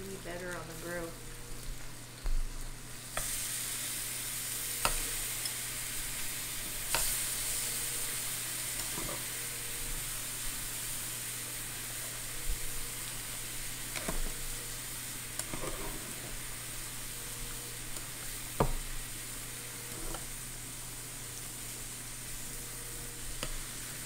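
Zucchini sizzling on a grill gives a steady close hiss with scattered pops and crackles throughout.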